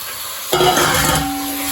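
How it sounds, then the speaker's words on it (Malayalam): Goat liver hits a hot pan at about half a second and bursts into a loud, steady sizzle that holds to the end, with no talk. "ആടിന്റെ ലിവറാ കേട്ടോ ഇത് നമ്മൾ അങ്ങ് ഇട്ട് കൊടുക്കുവാണ്"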